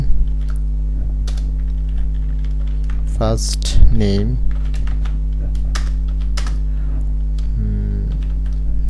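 A computer keyboard clicks as PHP code is typed, sparse key taps over a steady mains hum, with someone speaking briefly in between.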